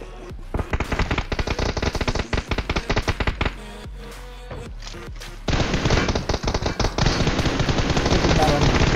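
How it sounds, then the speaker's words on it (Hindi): Rapid bursts of automatic gunfire in a game, continuous and loud, with a brief lull in the middle before heavier firing resumes. "अरे इसको गोलियां नहीं पड़ रही वरुण को, वरुण को एक दो गोली पड़ी है।"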